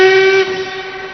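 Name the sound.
London train departing with whistle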